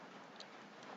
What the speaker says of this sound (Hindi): बारिश दोस्तों काफी जोर से हो रही है